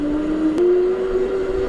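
Razor RSF 650 electric motorcycle pulling away on throttle, a rising motor whine that climbs in pitch over road and wind rumble, close and steady.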